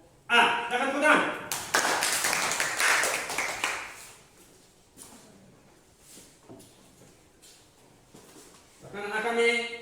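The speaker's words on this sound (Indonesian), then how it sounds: "Silakan tepuk tangan." Students applauding the best group in a classroom, a burst of scattered clapping from several hands for a few seconds, then fading to quiet, with a teacher's voice speaking before and after.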